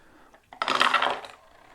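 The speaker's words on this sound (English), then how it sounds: "We will roll 3 dice for the Americans, 1 dice for the Germans." A handful of dice roll for a board game turn, a short clattering rattle lasting under a second on a hard surface, with quiet before and after.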